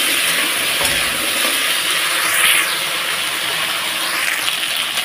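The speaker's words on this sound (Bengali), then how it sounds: "ওই জন্য আমি কচুটাকে ঢেলে দিলাম। এখন ভালোভাবে এটাকে ভেজে নেব একটু।" Chunks of taro fry in a pan with browned garlic, chilli and cumin, producing a loud, continuous hiss and sizzle, with occasional stirring scrapes close by.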